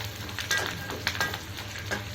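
Peeled garlic cloves sizzle quietly in hot oil, with light crackles and scattered stirring taps close by.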